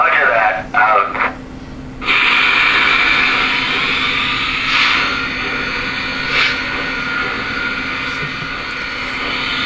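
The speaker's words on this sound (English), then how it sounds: "let's go ahead and fire it up and give it a listen" A Lionel Vision Line 763E Hudson model locomotive starts up: brief radio-style chatter, then a steady, loud engine roar that holds with slight swells to the end.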